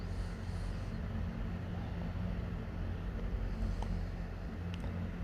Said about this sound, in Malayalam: നമ്മുടെ വള്ളം നല്ല സ്പീഡിന് പോയിക്കൊണ്ടിരിക്കുകയാണ്.